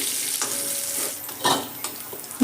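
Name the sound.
eggplant frying in oil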